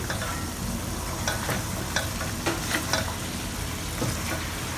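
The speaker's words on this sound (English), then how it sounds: "Just thicken with some cornstarch solution." Braised herbal chicken in yellow wine simmering in a pan as cornstarch solution is stirred in to thicken it, a faint bubbling sizzle under a run of soft spoon scrapes.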